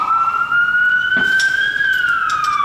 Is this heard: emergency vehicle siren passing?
yes